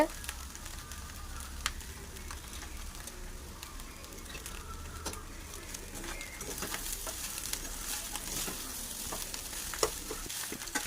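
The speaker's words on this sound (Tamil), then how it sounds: "இதை நல்லா ஃப்ரை பண்ணுங்கள்." Leftover biryani rice fries in a pan, a continuous crackling sizzle with scattered scraping stir strokes, while pigeons coo in the background and the frying grows brighter and louder partway through.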